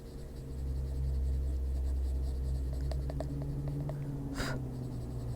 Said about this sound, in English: The crumbly pencil.